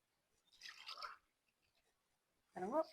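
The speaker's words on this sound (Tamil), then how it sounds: "இந்த கப்பால தான் நான் தண்ணியை வந்து எடுத்துக்கொள்ள போறேன்" Water poured from a cup into a cooking pot while making payatham urundai sweet: a short splashing pour, then a pause, then a voice speaking.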